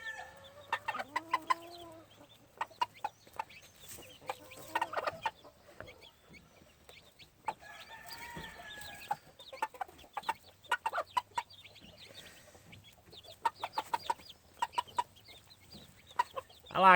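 A mother hen clucks with her black gamefowl chicks as they peck at medicated chick starter on a farm, with soft repeated clucks and scattered high chick peeps close by, no talking.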